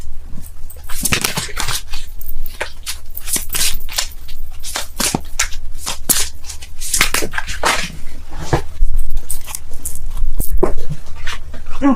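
Tarot cards shuffled by hand in repeated crisp riffling bursts, close and loud, with faint dog panting in the background.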